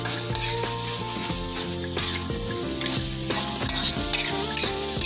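Spicy Indonesian food frying in a pan while being stirred, a steady sizzle with scraping stirring strokes, under background music.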